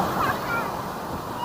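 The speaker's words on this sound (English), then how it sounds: "Here comes the wave. The waves are coming." Surf surging onto the shore at Paniman Beach, Puerto Azul, a steady, fairly close wash of breaking water and wind noise with no clear crest, heard without talk.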